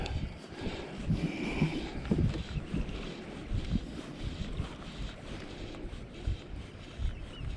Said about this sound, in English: that wind's pretty strong this morning